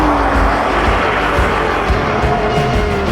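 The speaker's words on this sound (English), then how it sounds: "I don't think I've ever been in a car that has launched itself quite like that." Sports car launching from a standstill in a race against a train, with a loud, continuous engine roar that climbs steadily in pitch throughout.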